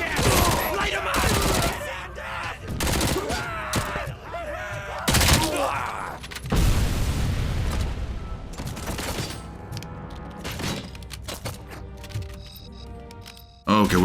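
Gunfire in the RoboCop: Rogue City video game, bursts of shots and loud impacts scattered across the stretch, mixed with game music and effects, while voices talk over the action.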